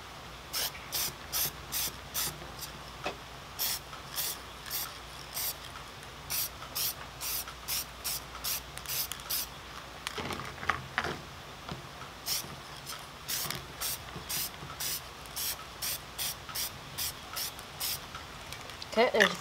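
Spray paint applied to an RC car body for a Team Associated B6, in rapid repeated hissing bursts from a close aerosol can, some longer and some short, with a brief pause midway.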